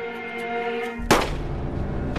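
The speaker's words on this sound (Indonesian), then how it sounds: "Namun ternyata ia ditembak mati oleh Tiago." A single sharp gunshot rings out in a Yakuza action film scene, loud and abrupt, cutting through a sustained musical score that continues afterward.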